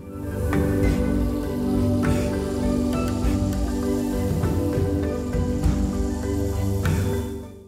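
Light drizzle falls inside a bird aviary on a rainy day, a steady soft patter of drops across the whole stretch with scattered small drips and faint bird activity mixed in, no talking.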